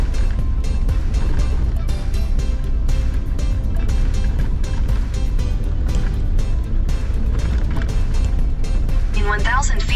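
An RV rolls along a rough, bumpy stretch of I-25 near Las Vegas, New Mexico, heard from inside as a loud, continuous road rumble with rattles and jolts throughout.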